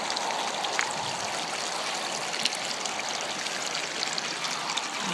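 Continuous gentle trickle and babble of water running from small, very hot, sulfur-smelling springs, moderately close and steady without speech.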